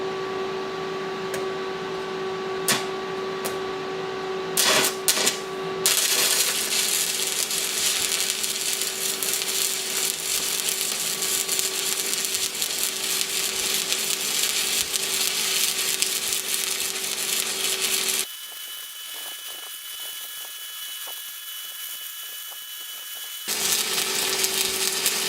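Stick welding with Harbor Freight E7018 1/8 inch electrodes, a continuous crackling, buzzing arc that holds steady and close for most of the stretch, with a brief quieter change partway through.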